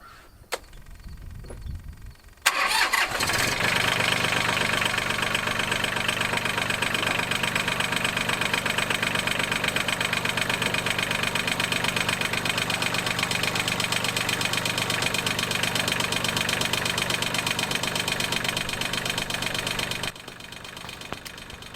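Mahindra 1626 tractor diesel engine after a tune-up, cranking and catching after a brief quiet start, then idling loud and steady with a knocking, vibrating clatter until it cuts off near the end.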